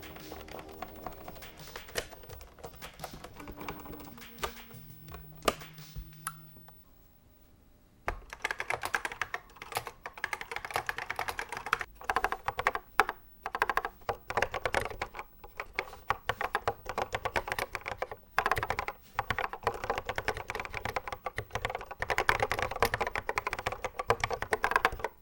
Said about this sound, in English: This keyboard sounds really good now, although it is kind of still a little bit firm to type on.